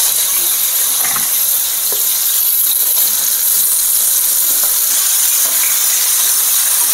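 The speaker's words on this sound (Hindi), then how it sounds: "इसको भी फ्राई कर लेते हैं अच्छा से" Loud, steady hiss of potatoes and peas frying in a pan, a constant bright sizzle with a few faint clicks, no voices.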